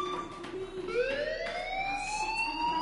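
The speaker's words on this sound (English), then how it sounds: "Hey, do you hear that fire alarm?" A wailing fire alarm sounds in the video game Life is Strange, with loud rising and falling tones that sweep steadily upward and continue throughout without speech.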